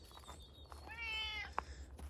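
A one-eyed cat meows once, a clear drawn-out cry at moderate distance outdoors at an earthbag house build site, followed by a brief sharp click, over a low steady background rumble.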